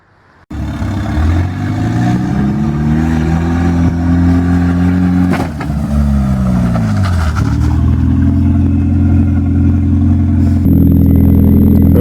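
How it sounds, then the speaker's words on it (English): A Volvo car with a bent frame and protruding bumper revs loudly, its engine note rising and falling steadily up close as it is driven at a wall to straighten the frame. "so I'm just gonna drive it right at the wall."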